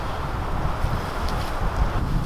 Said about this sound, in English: This wind's proven to be a bit of a nightmare.